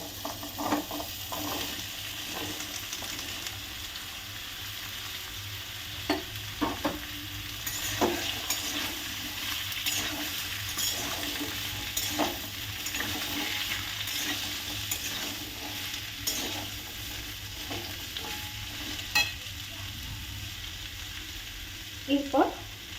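Potatoes fry in a pan seasoned with panch phoron and green chilli, a steady close sizzle running throughout with scattered clinks and scrapes from stirring.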